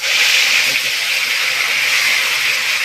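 Whole garam masala, bay leaves and cumin sizzle in hot oil as spices are fried for a monkfish curry, giving a loud, steady, close hiss that does not let up.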